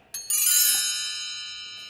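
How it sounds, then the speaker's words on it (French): A bell tree struck as percussion gives a bright, shimmering cascade of high metallic tones that rings out and slowly decays over under two seconds, heard alone. "un arbre à cloche."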